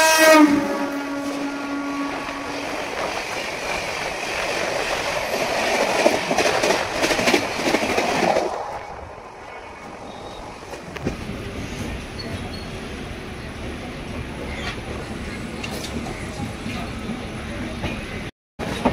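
A passenger train stands at Simhachalam station about to depart, with a loud horn blast and rumbling, clattering carriages close by, then a quieter platform hum and faint rattles.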